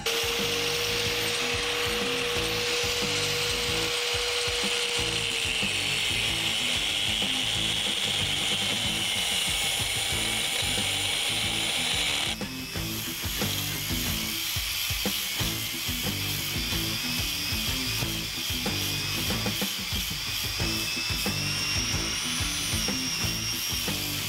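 A power tool cuts through huck bolts in a garage workshop on a Minimizer job, running as one loud, continuous whine that shifts pitch partway through, with no talking.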